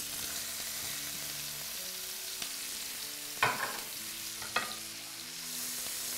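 Chopped onion sautéing in bacon fat in a pan, a steady close sizzle running throughout, with two sharp clatters of stirring partway through; no one talks.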